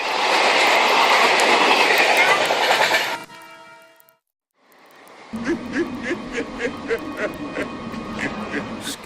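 A freight train running on rails, first a loud steady roar, then after a brief quiet gap a rhythmic clickety-clack of wheels over rail joints with occasional squealing, fairly close.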